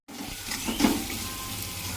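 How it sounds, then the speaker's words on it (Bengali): Ginger-garlic paste hits hot oil with lightly salted fried onions in a wok (kadai) as the base for a fish curry, giving a steady close sizzling hiss that swells briefly around the middle of the two seconds. "আদা রসুনের বাটাটা দিয়ে দিচ্ছি"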